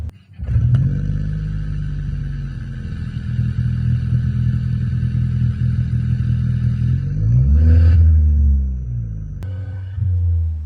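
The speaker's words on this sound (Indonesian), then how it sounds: "Honda tuh menampilkan video suara dari knalpot Honda Mugen ini. Dengerin suaranya." A deep, rumbling Mugen sports exhaust on a 2026 Honda HR-V idles, then revs up with a rising roar around the eighth second before settling back to a low burble.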